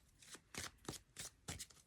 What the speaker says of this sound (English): I didn't mean to shuffle then